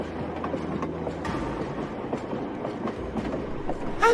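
A train runs along its rails, giving a loud, steady rumble with rhythmic clickety-clack from the wheels and a brief metallic squeal at the end.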